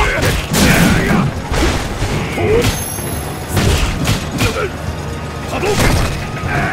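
Hadouken fireball special moves in the Street Fighter V fighting game, a series of loud booming blasts and impacts layered over busy game effects and voices, repeating every second or so.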